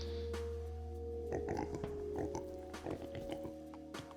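Pigs in Age of Mythology oink and grunt in short bursts over a steady electronic hum, several grunts clustered close together.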